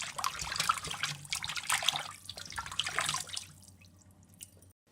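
Water splashes and trickles while a cleaned tilapia fish gets a final rinse, with irregular dripping and sloshing close by that thins out and fades near the end.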